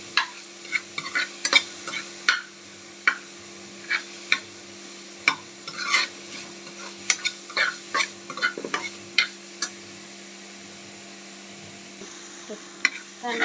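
Tomatoes frying with onion in a pan for a soybean curry, a soft steady sizzle under frequent sharp spatula taps and scrapes that come in an uneven rhythm, close by, with a faint low hum beneath and no talking.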